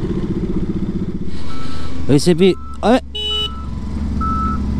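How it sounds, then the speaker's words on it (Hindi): A truck with rough, worn suspension reverses on a dusty road, a steady engine rumble topped by faint repeating reversing beeps, while someone speaks briefly nearby. "गाड़ी रिवर्स कर रहा है"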